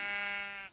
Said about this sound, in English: Right, come on, sheep, eat.